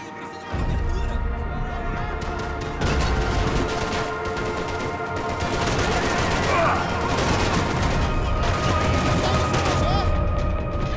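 Gunfire from the video game Max Payne 3, dense rapid bursts of shots running continuously over a loud, busy game soundtrack with music and effects.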